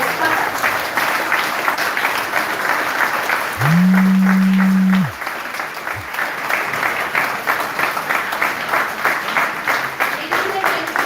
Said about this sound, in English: this is the continuous round of applause